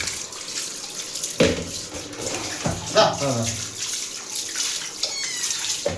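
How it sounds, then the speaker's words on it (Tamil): Water pours and splashes into a tub in uneven bursts while bathing a Persian cat, as voices talk over the running water. "என்னம்மா ஜெமிமா தண்ணி நிறைய ஊற்றினா பயப்படுது"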